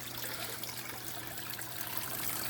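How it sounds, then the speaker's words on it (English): Water in an aquarium waterfall tank flows steadily through the filter, making a soft, continuous trickle with no breaks. "you see a huge increase in how much water is flowing through there"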